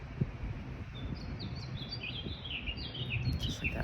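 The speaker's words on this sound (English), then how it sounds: "the birds are singing" Outdoor birdsong of repeated high, quick chirps and warbles runs through the clip at moderate distance, over a low rumble of breezy background noise, with no talking.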